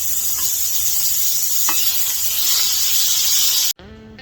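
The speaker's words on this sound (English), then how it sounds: "I'm going to add a couple tablespoons of butter" Butter sizzles and hisses steadily in a pan over low heat for chicken fried steak gravy, a loud, continuous frying crackle that cuts off abruptly near the end.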